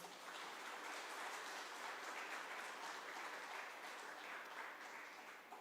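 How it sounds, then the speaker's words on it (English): An audience at an Engineer's Day keynote event applauds a company CTO with sustained, even clapping from many hands, holding steady and then tapering slightly at the end, faint in level overall. "Please give a round of applause for our CTO, Mr. Abraham Joseph"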